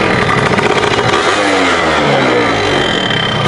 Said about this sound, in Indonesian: Motor berisik banget.